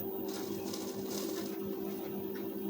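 Sewing machine stitching the lining and armhole seams of a blouse, a steady continuous whirring hum with a strong tonal buzz running unbroken and close for the whole stretch.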